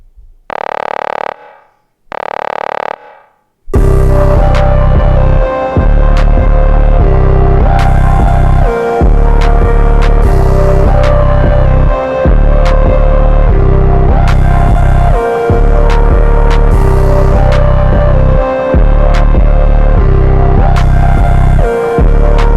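Naomi's old electronic WWE entrance theme plays loud and alone: two short synth swells open it, then a steady pulsing electronic beat with a heavy bass thump and repeating synth tones carries on without pause.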